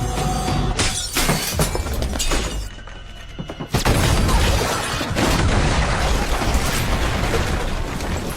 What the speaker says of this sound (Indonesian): Akibat ledakan barusan